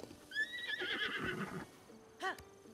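A horse in The Legend of Zelda: Breath of the Wild gives a high, shaky whinny, followed a moment later by a short second snort-like call, fairly clear against a quiet game background.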